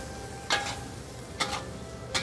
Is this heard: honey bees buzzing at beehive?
no